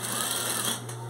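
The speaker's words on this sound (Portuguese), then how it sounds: "Aí vou dar uma costura em volta." Sewing machine stitching around the edge of a fabric placemat, a brief continuous fast mechanical whir, steady and close, with no talk.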